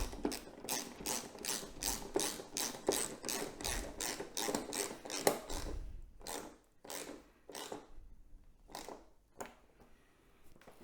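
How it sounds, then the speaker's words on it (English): A windscreen bolt on a Harley Road Glide Limited is tightened with a ratchet, fast close rhythmic clicking bursts that slow to a few spaced pulls toward the end. "Tighten the front bolt down."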